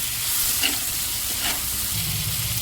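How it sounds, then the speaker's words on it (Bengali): Ginger garlic paste frying in a pan, a loud, dense, steady hiss of sizzling oil close up with faint stirring scrapes and no talking. "একটু ভাজা ভাজা করব।"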